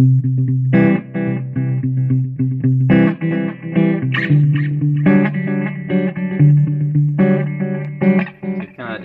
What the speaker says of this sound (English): It just basically gives you a delayed sound,